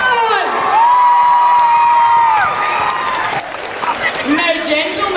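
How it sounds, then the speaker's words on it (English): A school audience applauds and cheers after a teacher's leg-waxing stunt, loud clapping mixed with whoops and children's shouts, while a voice rings out over the crowd. "Give these boys a round of applause!"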